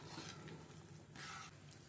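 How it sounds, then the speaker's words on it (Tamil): Spicy South Indian fish curry made with chili powder, bubbling and simmering in a pot, a steady close hiss with soft popping bursts and no voices. "நல்லா குழம்பு கொதிக்குது"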